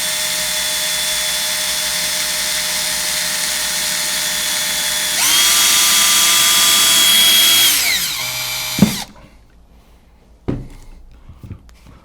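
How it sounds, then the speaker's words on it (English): A cordless drill whirs steadily, then rises in pitch as it bites into plastic and winds down, followed by a few clunks and quiet handling. "Begin drilling slowly."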